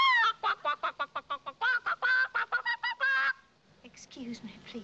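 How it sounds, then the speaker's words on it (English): A hen fusses and clucks loudly inside a kitchen in a 1956 film, a rapid run of harsh, honking calls close to the mic, then fading into quieter rustling. "That old hen Fusses got back in my kitchen again."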